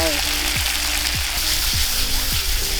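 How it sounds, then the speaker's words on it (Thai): Chicken liver and giblets stir-fried with sugar in a pan for Thai holy basil stir-fry give a steady loud sizzle, with spoon scrapes repeating about every half second. "ผัดให้หอมครับผม"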